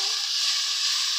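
A ground paste of cumin, coriander, garlic and green chilli sizzles in hot oil, an even, bright hiss lasting about a second with no voices.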